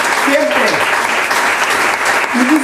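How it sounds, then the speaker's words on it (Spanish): Audience applause at an LGBTI community event in Pasaje Begoña, steady dense clapping lasting throughout, with a voice briefly audible over it. "otro gran aplauso a Fernando"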